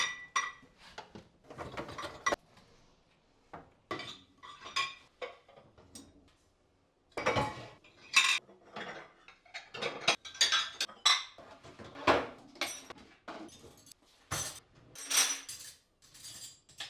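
Clean dishes being unloaded from a dishwasher and put away in a home kitchen: repeated clinks of plates, glasses and cutlery in irregular bursts with short pauses, fairly close, no talking.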